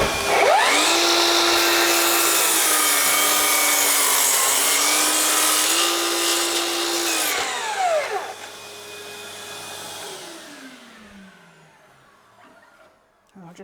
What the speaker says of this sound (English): I'll turn the extractor on and I'll make the cut.